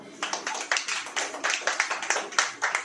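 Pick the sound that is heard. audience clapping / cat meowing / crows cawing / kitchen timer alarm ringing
audience clapping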